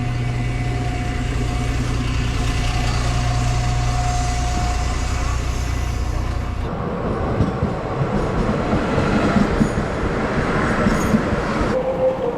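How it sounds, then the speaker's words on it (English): A train in Ukraine bound for Poland rolls steadily along the rails with a constant low rumble and rattle, shifting to a noisier clatter partway through. "The train we're on now goes directly to Poland"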